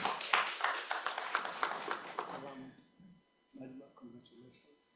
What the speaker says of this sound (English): You can clap for her as she comes